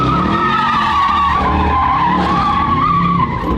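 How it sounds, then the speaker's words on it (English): A Lamborghini with traction control off, in manual sport mode, spins out, its tires skidding in a loud, sustained squeal over the roaring engine for several seconds. "I spun the car once"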